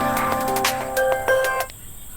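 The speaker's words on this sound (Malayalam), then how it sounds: "Sir, phone." A phone rings in a scene from the Malayalam film Ramaleela: a bright, tonal electronic ringtone melody with short repeated notes that plays for under two seconds and then cuts off.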